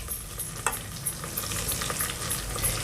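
Green chillies and curry leaves fry in hot oil with roasted gram for poha chivda, giving a steady close sizzle broken by light stirring clicks and scrapes against the pan.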